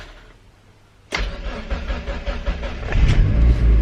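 A Mazda MX-5 engine cranks and catches about a second in, then runs steadily with a rough idle before revving louder near the end.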